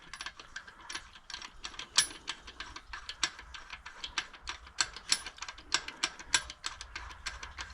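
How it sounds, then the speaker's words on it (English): A ratcheting lug wrench turns locking lug nuts on a car, giving a steady run of rapid metallic clicks, close and clear, with no talk. "Now I gotta get the tool. There's the wrench."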